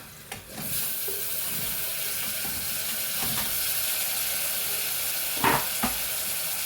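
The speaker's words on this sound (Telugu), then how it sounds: "మగ్గిన తర్వాత టమాటాలు వేయాలండి. టమాటాలు వేస్తానండి." Tomatoes going into a frying pan with onion, ginger and chilli paste give a steady, moderately loud sizzle, with a few sharp clatters of utensil on pan near the end.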